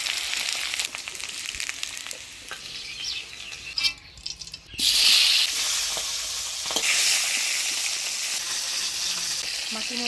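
A fish head coated in turmeric and salt fries in hot oil in a Bengali village kitchen, giving a steady close crackle and sizzle throughout, with a brief dip before the frying surges louder again.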